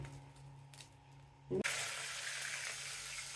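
Curry leaves drop into hot oil in a kadai, bursting into a loud, steady sizzle after a brief clatter, with the frying hiss continuing close by.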